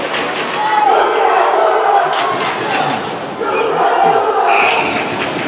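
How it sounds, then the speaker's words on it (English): A student crowd at a boys varsity high school basketball game taunts the visiting team with loud, sustained chanting and yelling that fills the gym, with short swells and a brief dip partway through. "you guys can definitely hear the student crowd taunting the Cholla team right here"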